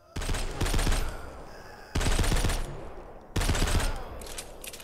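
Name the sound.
weapon gunfire in a post-apocalyptic shooter video game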